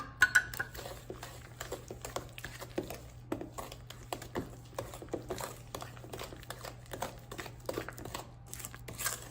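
Dark, rich molasses is stirred into cookie dough in a bowl, giving soft, irregular taps and scrapes of utensil against bowl, quiet and close, with no one talking.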